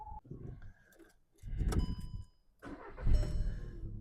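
A 2009 Volkswagen Golf Plus 1.6 MPI petrol engine cranks and starts, then runs with a low rumble in two surges separated by a short quiet gap.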